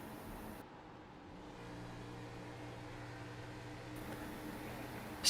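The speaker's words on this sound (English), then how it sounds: "Just hear how much he's backing it off and holding in the clutch, trying to save as much gas as he can right now at the start of this run." A sim-racing stock car engine at Kansas drones low and steady as the driver lifts off the throttle and holds the clutch to save fuel, faint and continuous with no talking.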